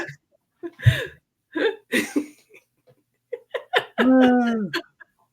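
A human voice imitates a chicken with squawky, clucking bursts that end in a long, strained scream-like shriek, and it is loud and close.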